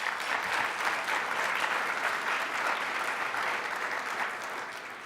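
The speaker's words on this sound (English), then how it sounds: "Let's give them a big applause" A large audience at an awards dinner claps loudly and steadily, a thick sustained applause that eases slightly toward the end.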